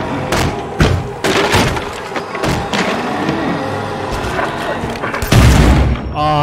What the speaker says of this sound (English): it's a big shotgun.